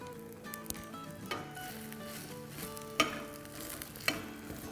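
A green-masala paratha sizzles steadily in oil in a pan after being flipped and drizzled with more oil, with a few sharp utensil clicks and light scraping over the constant frying hiss.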